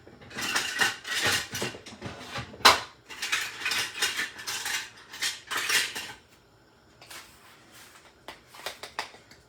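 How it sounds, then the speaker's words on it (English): A spoon mixes Italian breadcrumbs into melted butter in a bowl, with bursts of scraping and clinking in uneven strokes, a pause around the middle, then a few lighter stirs near the end. "And mix it into that butter."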